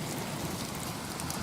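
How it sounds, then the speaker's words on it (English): Steady rain with gusting wind during a storm at a lake, a constant wash of drops on surfaces with no voices. "it's still raining and blowing"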